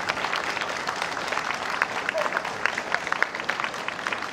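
Sustained applause follows an Owara folk dance performance by the Etchu Yatsuo preservation society at Toyama Station, a crowd clapping steadily and fairly close, with some voices mixed in.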